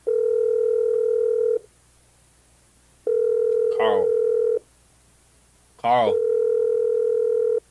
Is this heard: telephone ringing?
yes